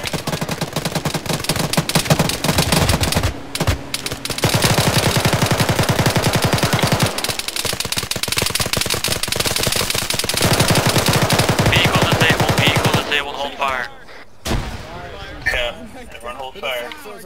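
Sustained rapid machine gun fire from a technical vehicle in a military video game, loud and continuous for long stretches with brief pauses, ending with scattered shots and voices talking near the end.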